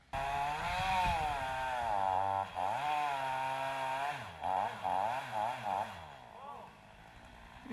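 A chainsaw engine roars close by while felling a tree, its pitch rising and falling in repeated revs before easing off near the end.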